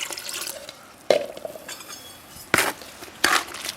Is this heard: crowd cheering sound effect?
no